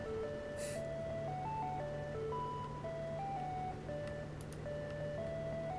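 Jingling ice cream truck melody in PUBG, a plinking tune of single stepped notes over a low steady engine hum, moderately loud and continuous, with a couple of faint clicks and no talk.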